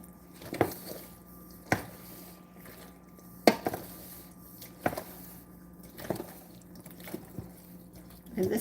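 Pasta being mixed into a slow-simmered rustic tomato sauce with meat, wet squishing stirs and soft spoon knocks on the pot coming every second or so, close and fairly quiet.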